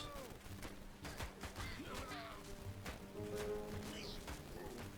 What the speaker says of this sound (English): Now we do get some toad explosions.